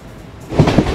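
A train pulling out of Tamluk railway station on the Tamluk–Digha line on a rainy day: quiet at first, then a loud low rumble with two heavy clanking surges as the carriages get moving.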